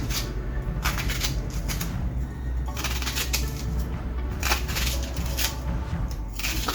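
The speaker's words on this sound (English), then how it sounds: "And I'm gonna cut up a piece of onion" A piece of onion being cut with a knife at home, repeated crisp chopping and slicing taps against a board in an uneven rhythm, close and fairly clear.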